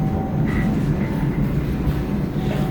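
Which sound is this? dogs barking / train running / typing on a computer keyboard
train running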